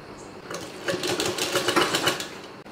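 A sewing machine stitching along three sides of fabric for a festival garment, with a fast mechanical clatter of the needle running close and steady for about two seconds after a quiet start.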